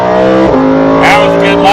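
A Lamborghini Performante accelerating hard on a race track, its engine note loud and close, pitch shifting as it pulls, with a high whine rising near the end.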